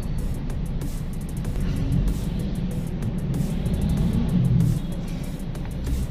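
Steady road traffic rumble heard from a motorbike riding between Barangay Cupang and Mandaluyong, a dense continuous low roar of engines and tyres with passing vehicles swelling slightly, no voices.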